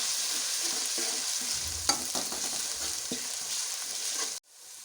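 Ginger garlic paste frying in a pan while being stirred, a loud continuous sizzle with scraping strokes of the spoon for several seconds before it cuts off abruptly near the end, no voices.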